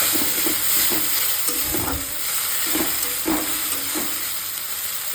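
Spices stir-frying with fried potatoes and eggs for an egg and potato curry: a constant loud sizzle and hiss of hot oil, broken by repeated scraping strokes of a spatula against the pan, with no voices.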